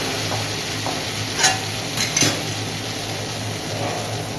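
Palak spinach goes into a pan of frying ginger paste for a Bengali curry, giving a steady sizzling hiss broken by a few clinks and scrapes of a stirring utensil.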